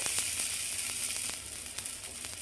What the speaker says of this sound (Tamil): சூடான பிறகு ஒரே ஒரு கரண்டி எடுத்து ஊற்றுங்க